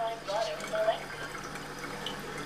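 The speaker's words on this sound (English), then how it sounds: "We'll turn the water on, we'll divert the water to the machine" Tap water runs at a steady, gentle flow into a Venus JP 107 water ionizer. It makes a soft, continuous rushing hiss, with a few faint higher tones near the start.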